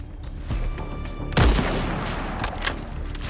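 Video game gunfire on an online server: a sharp, loud close shot rings out, followed by a trailing boom and reverberating echo, with faint scattered shots in the background.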